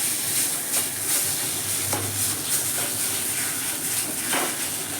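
A spoon stirs jackfruit seed paste with fried hilsa tail in a pan, giving steady scraping and mixing over a continuous close sizzle, with no talking.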